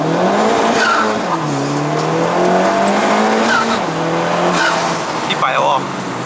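A modified Honda Civic Type R FK2 with a K20C1 engine tuned to 380 horsepower accelerates hard in a sustained, loud run, its engine note rising through gears under excited talk from inside the car.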